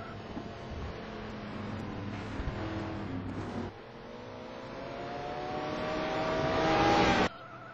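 Race cars start a race in GT Sport at Vallelunga, a pack of engines droning and revving steadily, rising to a loud whining peak as they accelerate past before cutting off abruptly.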